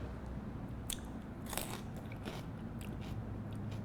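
Crisp, close bites into celery sticks topped with a cream cheese, rosemary, onion and garlic dip, a few sharp snaps followed by wet crunchy chewing.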